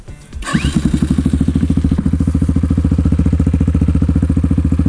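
A Kayo T2 dirt bike engine cranks and fires after a brief moment, then settles into a loud, close, steady idle with an even rapid thumping beat.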